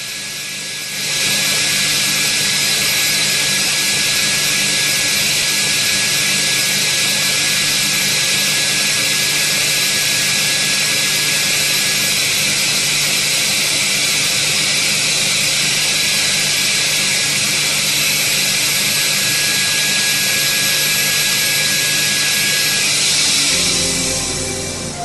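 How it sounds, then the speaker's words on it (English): A Holset turbocharger spins up during a burst test to destruction, giving a loud, steady, high-pitched jet-like roar and whistle that holds for over twenty seconds before easing off. "a genuine Holset turbocharger is tested to destruction to ensure that our safety"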